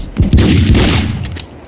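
Gunfire in Max Payne 2 fills a short, loud firefight, with several overlapping shots and blasts cracking in quick succession and no talk.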